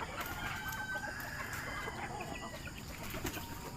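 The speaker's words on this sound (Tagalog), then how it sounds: "Yung pinaka-paborito kong manok." A favourite spangle rooster clucks and crows in a farmyard, its calls steady and fairly close over constant rustling background noise, with no one talking.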